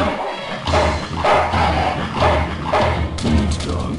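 Dog barking in the video game Full Throttle, a few loud barks in a rhythmic series over a steady low rumble, close and prominent.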